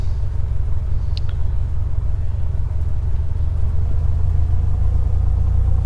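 Piper Comanche 250 taxiing in a flight simulator game, its engine a steady, loud low rumble that holds constant throughout, with a brief faint high chirp near the start.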